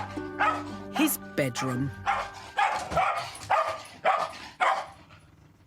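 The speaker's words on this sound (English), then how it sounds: "she'll start barking again" A pet dog barks repeatedly in sharp, closely spaced bursts at close range, with a person speaking briefly over the barking.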